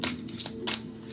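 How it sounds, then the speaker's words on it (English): Tarot cards are shuffled by hand in quick, soft riffling bursts, faint and close, with no talking. "Shuffling for Pisces."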